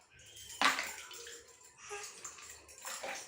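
Water splashes and sloshes in short bursts as a baby is bathed in a traditional Indian way, fairly close and soft, with quiet pauses between the pours.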